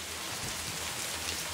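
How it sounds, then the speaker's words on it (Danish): Steady rain falls throughout during a mountain climb, a dense, even patter of drops on surfaces close by with no voices. "Bjergbestigning. I regnvejr."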